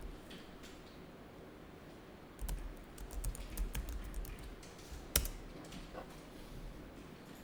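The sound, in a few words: typing on a computer keyboard, pressing enter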